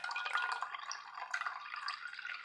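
A wet cotton dish rag or microfiber cloth, held up after soaking, lets water drip and trickle in a steady close stream with no talking.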